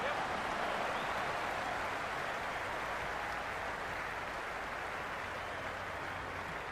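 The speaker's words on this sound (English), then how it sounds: "There's a buzz, a real buzz coming from the stands." A large cricket crowd in the stands at a Big Bash League match, a dense continuous roar and buzz of many voices that holds steady at moderate level throughout.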